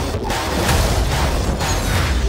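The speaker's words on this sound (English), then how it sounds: "Loud explosion." A loud, dense explosion-like rumble from a PlayStation 5 gaming trailer, with a sustained heavy low-end roar and a couple of sharper bursts over about two seconds, and no speech.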